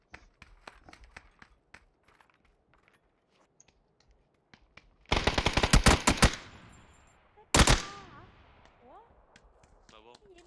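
An M4 rifle fires in a shooter game in two loud rapid bursts, one long and one short, set among scattered single clicks and shots, with a voice talking faintly in between.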